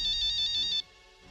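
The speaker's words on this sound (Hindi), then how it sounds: "आई, तेरा फोन बज रहा है।" A mobile phone ringtone rings loudly in a steady repeating electronic pattern for under a second, then cuts off, leaving quiet room tone.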